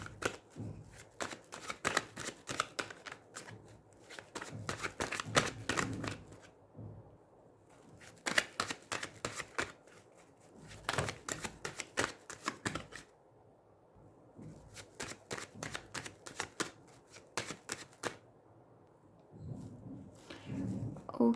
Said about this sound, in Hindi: सो पहले थोड़ा सा यहाँ पर शफल कर लेते हैं।